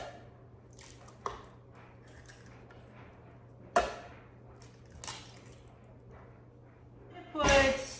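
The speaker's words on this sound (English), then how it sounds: "I'm gonna crack 2 eggs into this." Two eggs are cracked into a blender holding cottage cheese: a few sharp shell taps and soft wet squishes spaced apart, ending with a louder rattling clatter, in a quiet kitchen.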